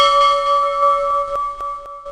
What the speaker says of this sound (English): I don't know why a pirate ship bell is a relaxing sound, but it just is.